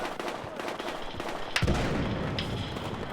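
Gunfire in the Battlefield Hardline video game, a sharp sudden blast midway followed by a lingering rumble over continuous background battle noise.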